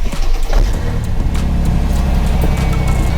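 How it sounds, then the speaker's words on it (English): A car engine revs steadily near 3500 rpm during a battery and charging test with a KINGBOLEN BM520 tester, a close, continuous low drone holding throughout. "And then it says rev engine"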